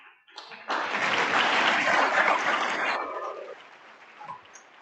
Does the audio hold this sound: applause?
yes